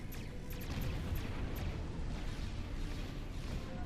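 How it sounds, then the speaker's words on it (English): A dramatic explosion sound effect from the space combat game Star Trek Online rumbles as a dense, sustained low roar with a few faint higher pops, steady and full throughout. "there's that over dramatic explosion again"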